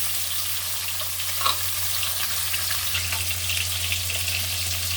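Oil frying steadily in a wok while fish is cooked for a Bengali katla fish curry with potato, eggplant and cauliflower; a constant close sizzle with a low hum underneath and a brief clatter midway.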